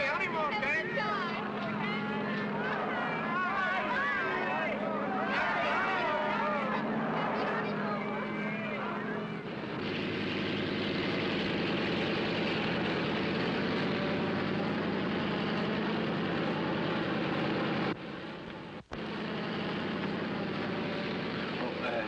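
An airplane engine drones steadily before takeoff in a 1948 film, the hum running throughout; voices talk over it at first, then the engine continues alone, with a brief cut near the end.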